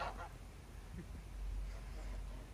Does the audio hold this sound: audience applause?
no